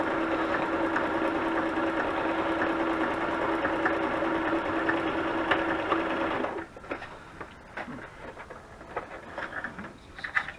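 A sewing machine stitches junk journal papers for a woodland-themed journal, whirring steadily and close for about six seconds before stopping. Quieter rustling and handling noises follow.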